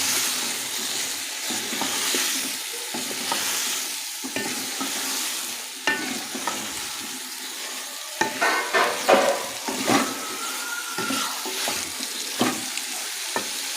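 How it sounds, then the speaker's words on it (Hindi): Cauliflower and potato stir-fried with spices for aloo gobhi, a continuous close sizzle broken by clattering spatula scrapes and tosses that grow busier toward the end, with no talking. "अब हम अपनी गोभी और आलू डालेंगे। तो इसे करेंगे हम अच्छे से मिक्स।"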